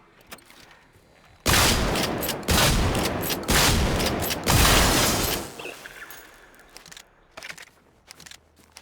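Heavy automatic gunfire from the video game Generation Zero roars in four long, loud bursts, trailing off into scattered quieter shots and clatter.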